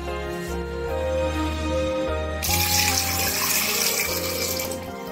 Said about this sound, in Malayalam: നമുക്ക് കുറച്ച് വെള്ളം കൂടി ഒഴിച്ചു കൊടുത്തിട്ട് ഒന്ന് വെയിറ്റ് ഇട്ട്